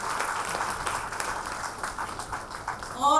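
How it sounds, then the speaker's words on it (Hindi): Audience applause at a cervical and breast cancer awareness talk, a steady wash of clapping held at moderate level under a faint background voice throughout. "जोरदार तालियां एक बार उनके लिए"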